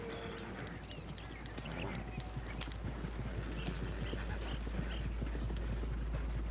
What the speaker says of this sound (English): I do like how the horse follows you.